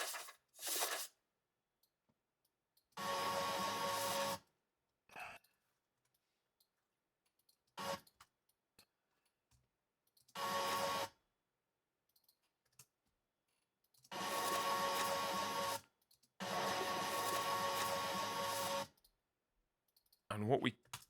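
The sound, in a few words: paper turn sound effect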